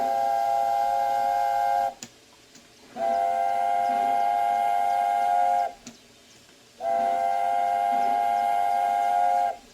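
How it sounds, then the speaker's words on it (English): Steam whistle of an A4 Pacific class locomotive in Train Simulator Classic, with two long steady chime blasts of about three seconds each, separated by a short pause with quiet engine rumble. "we seem to have some different whistle sounds on the spacebar that sort of flick through"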